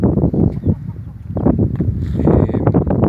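A young rooster clucks and calls among growing chickens, with steady close, loud bursts of clucking throughout.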